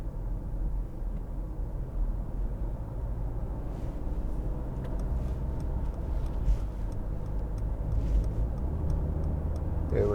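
A 2015 Mercedes-Benz C-Class accelerating on the road, heard from inside as a steady low engine rumble with road and tyre noise, no talk.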